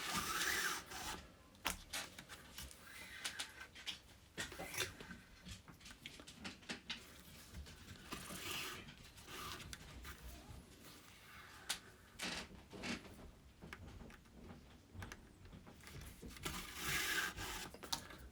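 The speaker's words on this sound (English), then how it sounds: "continue stitching, remembering to pull your tension in the same direction you're holding your thread" Leather being saddle stitched by hand, with thread pulled through again and again: soft, close rasping and rubbing strokes in an irregular rhythm, quiet, with no voices.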